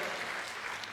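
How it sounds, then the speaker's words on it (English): Steady audience applause fills a lecture hall after a university discussion on genetic engineering, a brief, dense wash of clapping heard at moderate distance. "Let's give them a round of applause."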